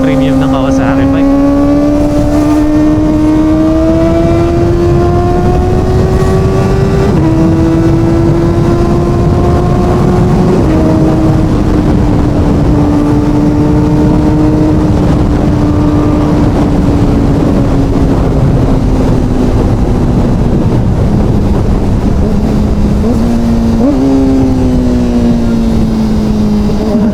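Kawasaki ZX-4RR motorcycle engine on a test ride, a loud, continuous whine that climbs steadily in pitch, drops at gear shifts and climbs again, with wind noise throughout.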